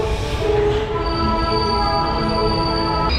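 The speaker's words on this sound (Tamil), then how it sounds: "இப்போது ஷொர்ணூர்லேருந்தும் ட்ரெயின் கிளம்பிடுச்சு" Electric Chennai–Mangalore Super Fast train 12685 pulls out of Shoranur, with a loud sustained metallic whine and wheel squeal running steadily throughout over a low rumble.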